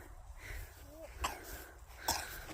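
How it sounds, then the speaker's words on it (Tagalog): Two short, sharp coughs from a young child on a mountain outing at Seongsan-dong tombs in Seongju, Korea, a second apart, with faint outdoor background noise between them. "Uy, inuubo na yung anak ko."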